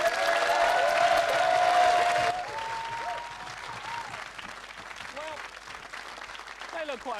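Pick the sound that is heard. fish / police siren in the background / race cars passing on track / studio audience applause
studio audience applause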